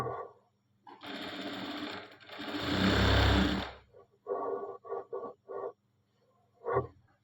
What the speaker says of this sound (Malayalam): ഇവിടെ താഴെ നിന്ന് മുകളിലേക്കാണ് ഞങ്ങൾ സ്റ്റിച്ച് ചെയ്യുന്നത്